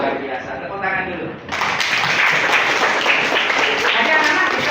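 Children applaud in a classroom, a dense wash of clapping that starts abruptly after a short stretch of murmuring and continues steadily to the end.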